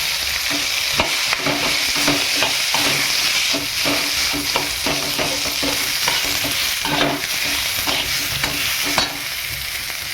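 Onion fries in a pan with cinnamon, cloves, peppercorns and poppy seeds for a spicy Marathi mutton curry, giving a continuous loud sizzle punctuated by rapid, repeated stirring scrapes close up, with no talking.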